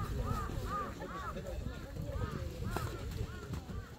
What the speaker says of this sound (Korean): 저 까마귀들이 왜 이 소리 난지 알지?